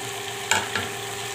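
Kachri, wild melon pieces, being stirred in a frying pan, with a steady sizzle of frying underneath and two brief scraping stirs close by, no voices.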